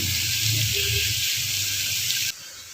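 Grated bottle gourd sautés in a hot pan, giving a steady broad sizzling hiss that cuts off abruptly near the end, with faint low voice sounds underneath.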